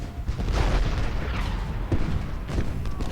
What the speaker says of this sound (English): look at the amount of volley fire that our Confederates have put on the enemy